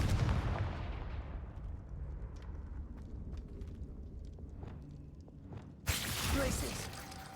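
A Confringo fire spell cast in the game Hogwarts Legacy: a loud burst of rumbling blast that fades over several seconds, with faint clicks, then a sharp bright whoosh-crack near the end.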